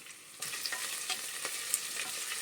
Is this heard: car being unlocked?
no